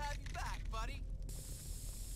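A spray can hisses out graffiti paint in The Warriors on PS2, a steady mid-loud aerosol hiss that follows brief game voices and sounds and carries on alone to the end.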